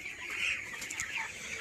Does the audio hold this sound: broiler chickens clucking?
yes